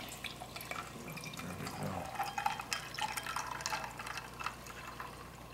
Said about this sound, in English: All right, let's pour up this cider.